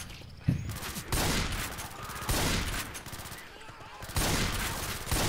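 Shotguns blast in the Left 4 Dead 2 video game, several heavy booming shots spaced about a second apart over background game noise, with voices talking in between.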